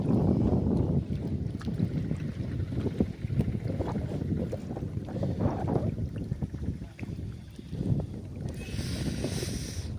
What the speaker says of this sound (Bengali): প্রচুর হাওয়া দিচ্ছে এখানে